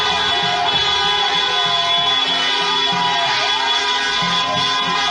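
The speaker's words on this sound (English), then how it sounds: "A lot of people cheering." Dense, steady crowd roar at a Canadian trucker convoy, loud and continuous throughout with overlapping cheers and shouts and a low rumble of engines or horns beneath.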